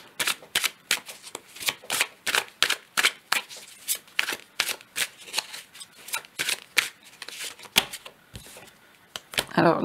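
Oracle cards are drawn and shuffled from a deck, close crisp snaps and flicks arriving in a quick uneven rhythm through the whole stretch, with no talk over them.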